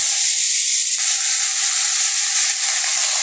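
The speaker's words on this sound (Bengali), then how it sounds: "তারপরে আমরা ফুলকপি দিলাম, ভেজে নেব।" Cauliflower fries in hot oil in a kadai, a dense, steady sizzle that holds loud and close for a few seconds with no talk.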